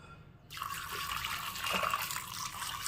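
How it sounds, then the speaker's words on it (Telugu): Water pours into a pressure cooker holding jackfruit seeds, starting abruptly after a brief quiet and then running as a steady, close splashing stream until the end. "ఇప్పుడు దీంట్లో వాటర్ వేసుకుని విజిల్స్ వేయించుకోవాలి"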